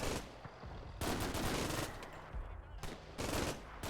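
Machine-gun fire pours from a building during a World War II battle in Combat Mission: Fortress Italy, coming in loud sustained bursts broken by short pauses.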